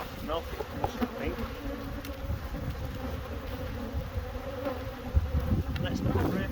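Honeybees buzzing steadily around open beehives while frames are checked, a continuous close hum with small swells and a few handling knocks.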